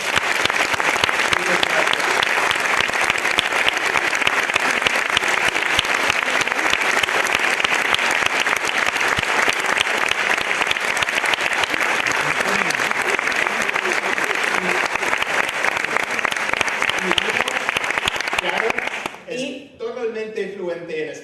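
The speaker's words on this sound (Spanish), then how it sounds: "Creo que se merece un fortísimo aplauso." An audience at a book event with an author applauds loudly and continuously for about nineteen seconds, a dense steady roar of many hands, then it quickly fades as a voice begins speaking.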